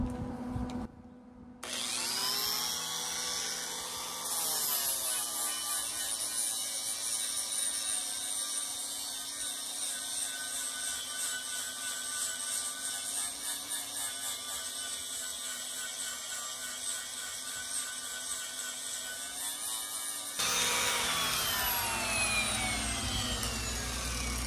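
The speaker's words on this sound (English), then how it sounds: "we can grind some of the welds on the top" An angle grinder runs steadily on the welds of a fold-up welding table's top surface, a loud, continuous high whine with slight shifts in pitch as it bites, spinning down and back up briefly at the start.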